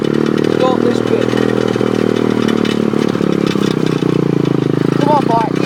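A pit bike engine runs loud and close with a steady buzzing drone, while a person shouts over it.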